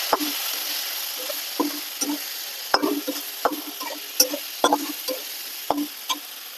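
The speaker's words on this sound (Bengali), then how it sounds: "মশলা ভাজা হয়ে গেছে" Spices frying in a pan with ginger paste, cumin, tomato, chili, coriander and a splash of water for chicken polao, a steady sizzle broken by repeated scraping strokes of a spatula stirring.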